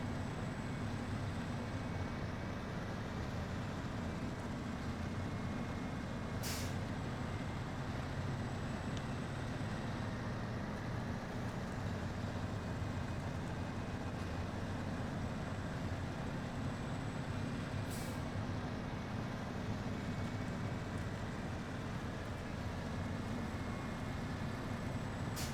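P16 heavy truck in the Snowrunner video game, slowly driving over rocks, a constant low engine drone with steady rumble, loud and unbroken apart from two faint high clicks.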